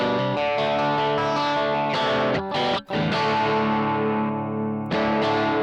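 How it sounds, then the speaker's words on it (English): Electric guitar goes through a Vox Valvenergy Silk Drive pedal set for a pushed clean tone. Strummed chords ring out and sustain, a brief gap interrupts them near the middle, and the guitar plays alone and steady. "So I'm going to go to the Silk Drive quickly here. So I get a really nice pushed clean sound."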